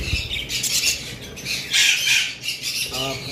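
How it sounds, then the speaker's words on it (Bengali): A flock of Japanese budgerigars squawks and chatters in harsh, overlapping bursts, loud and close, with no talking. "আর এখানে আমাদের কাছে হিউজ পরিমাণ বাজরিগার রয়েছে, এগুলো সবই জাপানিজ"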